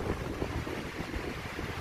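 Strong wind buffets the microphone outdoors in a steady, dense roar with rumbling gusts, next to a moped being worked on, and no voices are heard.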